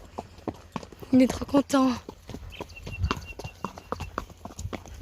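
Horse hooves clip-clop in a steady rhythm at a regional equestrian championship, with a whinny-like sound and people talking over them.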